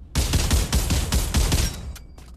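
An M1 Garand rifle fires in the Pavlov VR game, a quick run of loud, close cracks followed by a short metallic ring and a faint trailing click.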